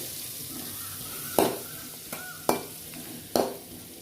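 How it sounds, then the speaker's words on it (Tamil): Chopped onions sizzle steadily in hot oil while a spoon scrapes and stirs the pan in three or four distinct strokes, close by with no talking. "அந்த எண்ணெயில் நறுக்கிய வெங்காயத்தை போட்டுக்கலாம்"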